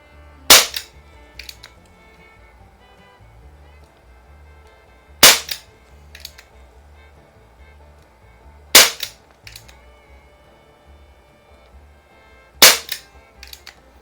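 A Crosman Vigilante .177 caliber CO2 revolver, modeled after the Colt Python 357, fired four times at spaced intervals, each shot a sharp, loud crack with a brief echo in an otherwise quiet setting.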